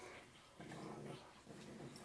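Two dogs tug at an old sock together, giving close, bursty growls and huffing play noises in uneven pulses with short pauses between.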